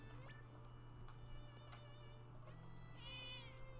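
A cat meows in the video game Zelda: Echoes of Wisdom, a short rising call near the end that sits over a steady hum of game music and ambience, with no talking.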